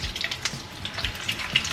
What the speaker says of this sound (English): put them in our pan with hot oil